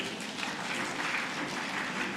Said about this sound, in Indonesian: tepuk tangan untuk Jemaat Tangerang